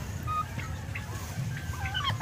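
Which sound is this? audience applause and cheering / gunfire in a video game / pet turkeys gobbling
pet turkeys gobbling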